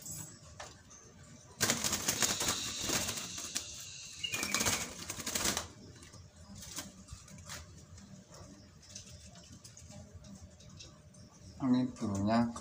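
A plump zebra dove (perkutut) is handled by hand, with bursts of close wing flapping and rustling over several seconds, then quieter fluttering and shuffling, with a brief flurry near the end.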